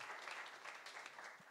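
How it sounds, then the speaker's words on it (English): Applause at the Speck&Tech 54 "Woodwork" tech meetup welcoming the second speaker, a steady patter of clapping from a modest audience, fairly faint and even throughout without a clear start or end. "A big applause also for him."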